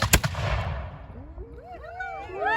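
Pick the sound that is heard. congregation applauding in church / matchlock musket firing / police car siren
matchlock musket firing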